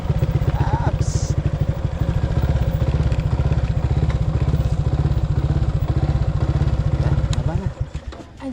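A motorcycle on a steep mountain road chugs with a rapid, rhythmic low pulse that stays close and steady, then fades near the end as a few faint voices are heard.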